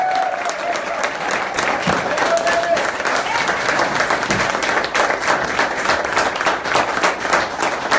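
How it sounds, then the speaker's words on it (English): Audience at a symposium gives a sustained round of applause for a speaker, dense clapping filling the room throughout with a few voices and a brief call mixed in underneath. "I want a round of applause for Dennis Hoff."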